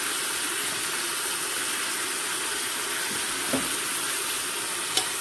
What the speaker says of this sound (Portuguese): Aliás, eu refogo a rabada 2 vezes